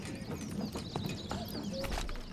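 Horses in the medieval village game Manor Lords give a run of light hoof clip-clops under game ambience, with faint birdsong chirping over them and no speech.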